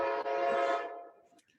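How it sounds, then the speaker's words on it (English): A train horn blares steadily and loudly, a sustained tonal blast that then fades and trails off as the train passes, with no talking over it. "Oh, is that the train?"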